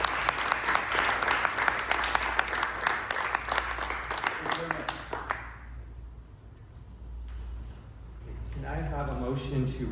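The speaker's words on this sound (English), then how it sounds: "let's give a round of applause to our presenters" Applause for presenters at a city charter reform commission meeting, a crowd clapping loudly and steadily for about five seconds before it fades, followed by quieter room noise and a voice speaking.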